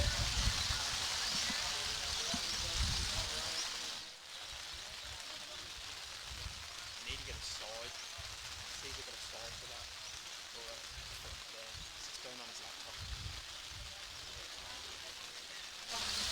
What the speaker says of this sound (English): We're just trying to get a side for the marquee because the rain's coming in everywhere.